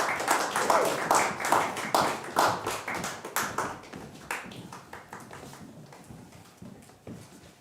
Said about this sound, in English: How about a round of applause for our prospects?